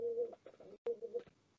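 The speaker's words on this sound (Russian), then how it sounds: "Вот я слушаю голубей." Pigeons coo softly in a few low, throaty rolling calls with short pauses between them, faint and fairly close in a quiet setting, with no talk over them.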